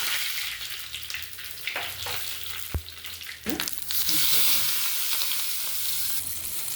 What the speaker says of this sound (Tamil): எண்ணெய் காஞ்சோட கடுகு போட்டுக்கலாங்க கடுகு பொரிஞ்சிருச்சுங்க